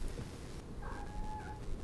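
A pet cat gives a single faint, drawn-out meow partway through, set against a quiet room hiss, with no talking.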